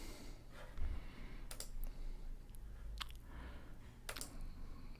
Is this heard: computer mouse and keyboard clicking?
yes